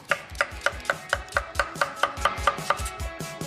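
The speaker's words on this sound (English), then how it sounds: "Slice that in half. Again, into quarters and chop." A knife chops a fruit or vegetable, halved and quartered, on a cutting board in a home kitchen, making a steady run of about a dozen sharp, close, evenly spaced knocks.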